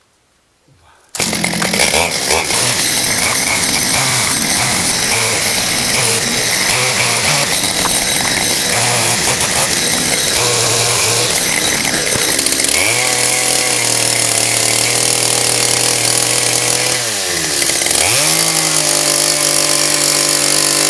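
A chainsaw runs loud and continuous, cutting a large tree trunk for an artist's studio mezzanine. The engine pitch drops twice as the chain bogs into the wood, then recovers.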